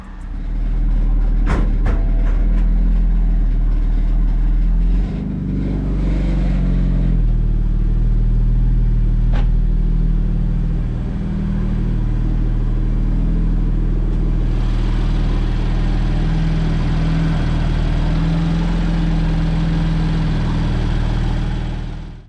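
A BMW F80 M3 engine with a suspected boost leak runs louder than usual, a deep steady idle drone that fills the whole stretch close up, with a few sharp clanks early on and no talking.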